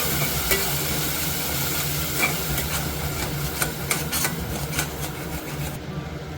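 Spoon stirring potato masala curry in a pan after tomato juice and ginger-garlic paste go in, a steady scraping and sizzling texture with soft clinks against the metal, close and continuous with no talking.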